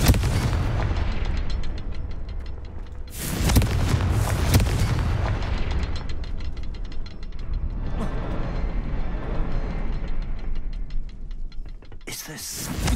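A Confringo fire spell bursts in a Harry Potter video game: a loud, booming explosion with a crackling tail a few seconds in, then a second sharp blast near the end, over a continuous mechanical, creaking game background.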